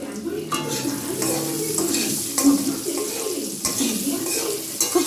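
Pointed gourd fries in a pan with turmeric and salt, giving a steady close sizzle with occasional stirring scrapes that continues throughout.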